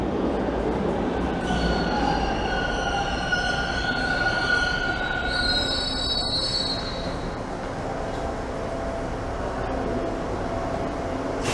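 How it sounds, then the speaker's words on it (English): A Toronto TTC subway train rolls past on Line 2, its wheels letting out loud, sustained high-pitched squeals over a steady rumble of rail noise, with no talk. "It's a train, but it's not mine."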